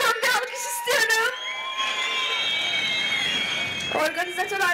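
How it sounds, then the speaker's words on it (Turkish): A concert crowd at the Kayapınar youth festival breaks into sustained applause and cheering, with whoops and shouts filling the middle, bracketed by a woman's amplified speech. "Sevgili menajerim Yasin'e kocaman bir alkış istiyorum."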